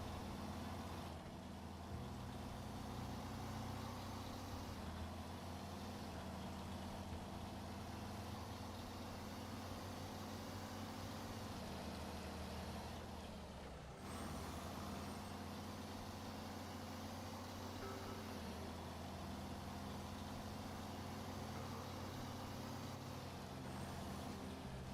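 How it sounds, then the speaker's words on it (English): A T880 highway truck engine in the video game SnowRunner, a steady loud diesel drone with a deep rumble that runs unbroken for the whole stretch, with only a brief dip partway through and no talking. "it's the T880, not the Terra Pro. Highway truck."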